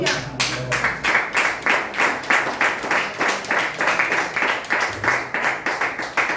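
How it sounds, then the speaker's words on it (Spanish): A church congregation claps in a steady, fast rhythm of distinct, evenly spaced beats that carry on throughout, close and fairly loud, with faint voices underneath. "Denle fuerte aplauso a Perito."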